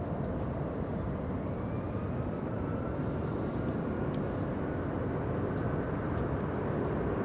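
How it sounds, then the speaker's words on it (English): United Airlines plane rolling down the runway at LAX, a steady, broadband engine roar holding throughout, fairly distant and unbroken, with no voices. "So where is United Airlines? Okay, it's heading down the runway."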